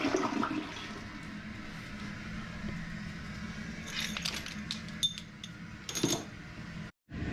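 A newly installed toilet flushes with a loud, steady rush of water that swirls and drains for several seconds, then gurgles and refills with a few clinks and a brief pause near the end.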